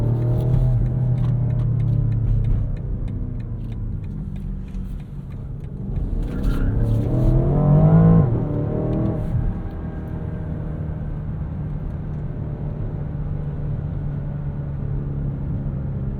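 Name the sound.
BMW Alpina XB7 SUV engine accelerating with launch control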